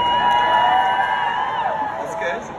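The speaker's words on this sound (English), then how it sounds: "Can you cheer?" A live audience at a Brainiac Live show at Butlins Minehead cheers and whoops together in a steady, loud crowd roar that tapers slightly toward the end.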